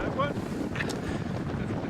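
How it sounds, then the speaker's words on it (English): Strong wind buffets an outdoor microphone near Cardiff Bay, a continuous loud rumbling roar with gusty fluctuations filling the whole stretch, with no voices. "You can see it's still very windy"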